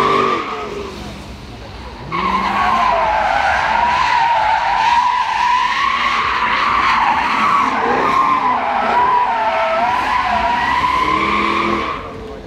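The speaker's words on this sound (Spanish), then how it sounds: "los 4 días sin parar, Jaguar derrapando todo el día" A Jaguar drifts at the Goodwood Festival of Speed, its tires squealing loudly and continuously for about ten seconds over engine roar after a quieter start, with crowd noise and voices in the background.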